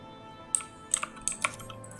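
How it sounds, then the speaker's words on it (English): A computer keyboard clacks in a few separate bursts of keystrokes with short pauses between them, close and fairly quiet, with no voices. "one day I can, fix the keyboard noise."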